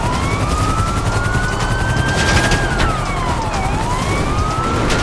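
Police siren wailing steadily, rising and falling, over a dense rumble of engine and gunfire-like noise, with a police helicopter drone underneath, in the video game GTA 5; loud and continuous.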